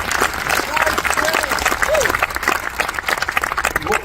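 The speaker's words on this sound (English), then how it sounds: "please, a round of applause" A theatre audience at a VIP screening of a concert film applauds steadily for about four seconds, a dense, even clatter of many hands with a few high whistles and cheers rising above it.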